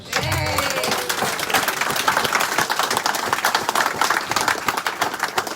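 A crowd in a rugby clubhouse bursts into loud, sustained applause, many hands clapping rapidly and close by, with a few brief voices at the start, holding steady throughout.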